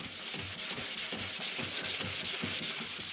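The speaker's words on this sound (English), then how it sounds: "Yeah, I'm just gonna keep sanding it." Wet sanding of a plastic car headlight by hand with sandpaper makes a steady, rhythmic back-and-forth scrubbing, several strokes per second, close and fairly quiet, with no talking.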